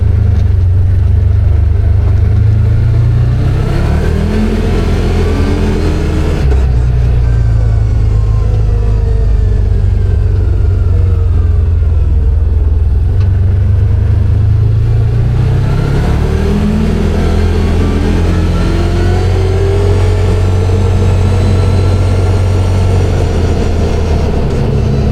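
A CFMoto UForce 1000 UTV drives through a neighborhood in high gear, its engine droning loud and close with rising and falling revs as it speeds up and eases off twice.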